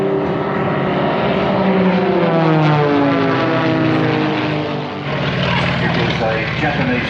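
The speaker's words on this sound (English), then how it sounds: "Watch the three-ship formation about now." The Sky Aces three-ship formation of propeller aircraft passes overhead at an airshow, a loud sustained multi-engine drone that swells and wavers as the planes fly by, with an announcer talking over it.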